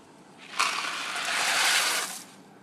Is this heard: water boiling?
yes